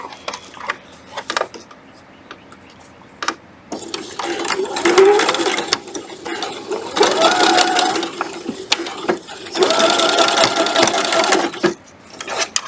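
Sewing machine stitching across a nylon zipper on an insulated tote, a steady mechanical whir with rapid rhythmic clatter that starts and stops in several bursts, fairly close and loud, with no talk.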